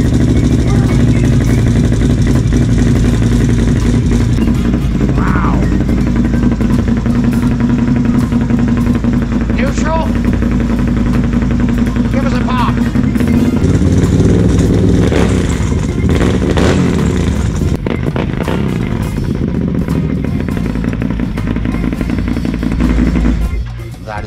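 A Can-Am Outlander X-MR 850 ATV with a custom build runs loud and close, its engine rattling hard and steadily with a few revs, while voices talk over it.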